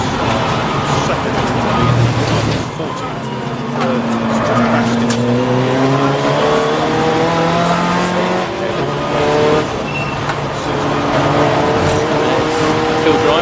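Racing cars including BMWs scream past at a Snetterton endurance race, engines rising and falling in pitch through gear changes, loud and continuous, with a commentator talking over them.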